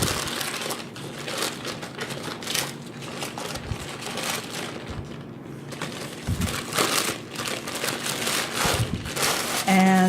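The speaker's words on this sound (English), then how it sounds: "I have my plastic bag that I'm going to put my green beans in" A plastic bag crinkles and rustles in bursts as blanched green beans are packed into it, loud, close and uneven, with short pauses between handling noises.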